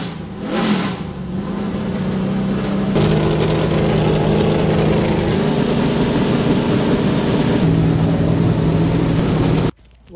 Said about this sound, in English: The cars are pulling out and rumbling.